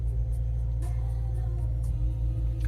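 A 2015 Subaru WRX with an ETS axle-back muffler delete exhaust idles inside a garage, giving a deep, steady, throbbing low rumble with a slightly lumpy rhythm, close and continuous.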